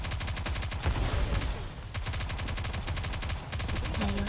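Rapid automatic gunfire from the video game Nikke: Goddess of Victory, dense repeated bursts with a brief lull near the middle, loud and continuous over a low rumble.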